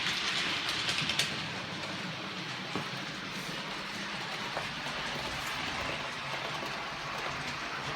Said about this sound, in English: Leave you with the train for a second.